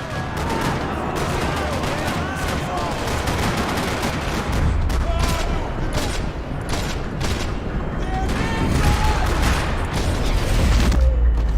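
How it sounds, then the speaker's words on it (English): Rapid bursts of gunfire crackle continuously from several weapons in Max Payne 3, dense and loud, with booming impacts mixed into the steady barrage in a parking lot. "Another parking lot rattling with gunfire."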